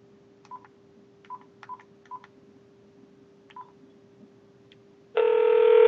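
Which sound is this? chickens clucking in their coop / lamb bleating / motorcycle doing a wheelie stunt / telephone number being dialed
telephone number being dialed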